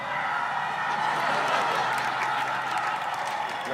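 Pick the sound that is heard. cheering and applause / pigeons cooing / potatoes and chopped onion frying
cheering and applause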